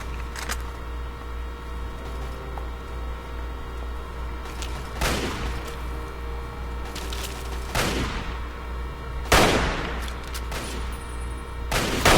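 Scattered gunfire from a companion in Fallout 3 sounds as a few separate sharp shots and short bursts spaced several seconds apart over a steady low background hum, with no talking.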